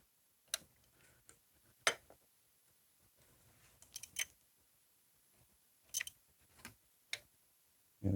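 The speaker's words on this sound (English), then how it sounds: "So now I'm going to get my ratchet." A hand ratchet clicks while tightening spark plugs on a Trailblazer/Envoy GMT engine, with scattered sharp ticks and short click bursts separated by quiet pauses, close and faint.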